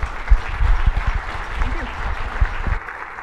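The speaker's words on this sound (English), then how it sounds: "round of applause for Katie Bell, please." Audience applause greeting Katie Bell as keynote speaker at a Python teaching talk, a dense mid-sized round of clapping that swells then thins and fades near the end.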